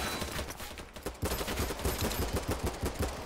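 Rapid automatic gunfire in the video game BattleBit Remastered rattles in a fast steady stream, loud and close, after a brief gap near the start.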